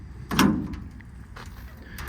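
A compartment door on a 2018 Ford F750 extended-cab crane truck with a Stellar 12630 crane, opened with a single close latch-and-swing thunk, followed by quieter rattles.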